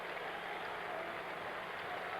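A large stadium crowd at the 1978 Commonwealth Games athletics meeting, cheering runners in a distance race, heard as a steady, far-off wash of applause and roar that holds evenly throughout.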